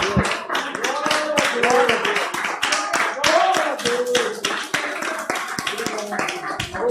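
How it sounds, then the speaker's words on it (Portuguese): A church congregation claps in praise to Jesus, dense rhythmic hand claps filling the room steadily for several seconds, with a voice speaking over the clapping. "Então vamos dar uma salva de palmas para o Senhor Jesus"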